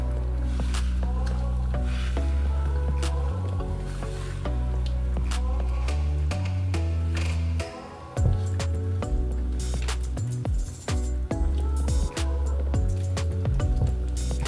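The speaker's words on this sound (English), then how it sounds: "I'm gonna give this a little stir." A spoon stirring plant-based crumbles, vegetables and dumplings in a simmering run-down pot, with wet squelching and bubbling over a loud steady low hum.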